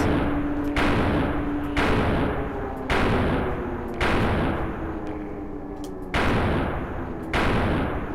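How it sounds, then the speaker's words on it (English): Repeated heavy gunshots from the video game Stranded, about seven loud booming reports at roughly one-second intervals, each with a long decaying tail and a steady hum underneath. "It's quite satisfying shooting all the enemies."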